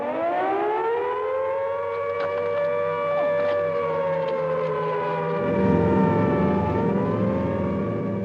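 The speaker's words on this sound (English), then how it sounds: "at about 10 o'clock, the first sirens sounded" A wailing Second World War air raid siren drones steadily at a distance at night, its tone slowly rising and falling, with a low rumble swelling beneath it toward the end.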